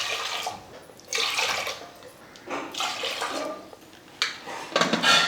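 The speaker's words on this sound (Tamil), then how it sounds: "பருப்பு நல்லா கழுவி எடுத்துக்கிட்டேன்." Moong dal being washed in water in a home kitchen, with bursts of swishing, splashing water in several separate pulses, close and moderately loud, with no talking.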